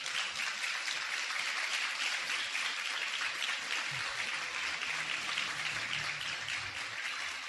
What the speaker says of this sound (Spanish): ¿No le da un aplauso al Señor por eso?